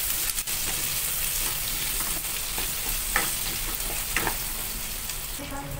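Garlic frying in a pan while being stirred, a continuous close sizzle overlaid with irregular scraping and tapping of the spoon, no voices.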